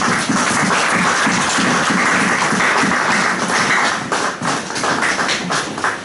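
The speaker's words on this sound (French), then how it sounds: "Acclamons très très très fort le Seigneur." A church congregation claps together loudly and continuously for several seconds, a dense wash of hand claps that thins briefly near the end before picking up again.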